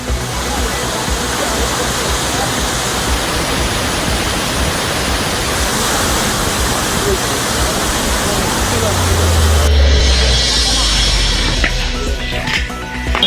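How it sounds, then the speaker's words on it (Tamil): Sudden flood at Aliyar Monkey Falls waterfall, a loud, steady roar of heavily rushing water that holds constant throughout, with a brief deeper surge near the end. "ஆழியாறு குரங்கு அருவியில் திடீர் வெள்ளப்பெருக்கு"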